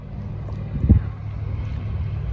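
Motorboats on an American lake produce a steady low rumble with wind noise on the microphone and one brief louder thump near the middle.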